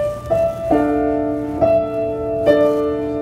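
Simple piano tune of a song in a beginner-level simplified arrangement, played as four plain struck notes or chords at a slow, even pace, each ringing and sustaining clearly before the next, with no voices present.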